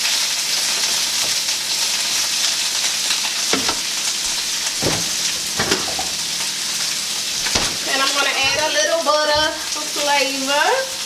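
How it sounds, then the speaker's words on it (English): Cabbage sizzles and crackles steadily in hot vegetable oil while a few knocks of stirring sound, and a person talks near the end. "I think I'll use a little bit of vegetable oil."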